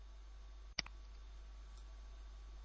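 A single sharp computer mouse click on a Windows Control Panel item, crisp and close in an otherwise quiet room, with a faint second tick just after.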